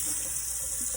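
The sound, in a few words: tap water washing potatoes in the sink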